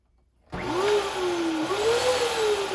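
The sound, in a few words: vacuum cleaner vacuuming a kitchen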